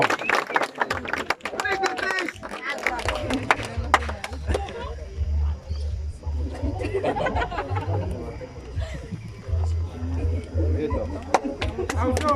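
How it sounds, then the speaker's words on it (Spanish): Crowd applause for a sports team at an anniversary celebration of Muná's founding, with scattered claps and chatter over a steady low hum, and an announcer's voice mixed in. "Fuerte aplauso por su equipo, son deportistas."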